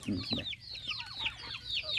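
Old hens in a mixed-breed village flock cluck in quick, chattering bursts close by, with a soft voice underneath.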